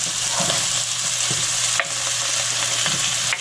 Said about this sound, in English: The celery's cooked and the sausage is browning. I'm going to throw the mushrooms in there.